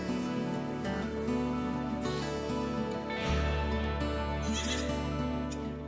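Dairy goats on a farm of nearly 700 head in Ullastrell bleat in overlapping calls, several animals at once, steady and fairly loud, with no talking.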